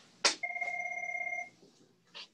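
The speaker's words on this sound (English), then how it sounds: "just ignore my phone ringing" A phone rings once during a podcast interview: a sharp click, then a steady two-tone electronic trill lasting about a second, fairly quiet and heard alone.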